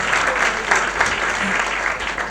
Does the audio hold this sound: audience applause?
yes